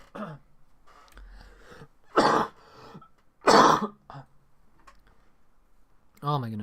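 Repeated coughs or throat clearing from someone who has been sick for months, two loud broadband bursts spaced a second apart among quieter breaths and small mouth noises, with a voice starting up at the end.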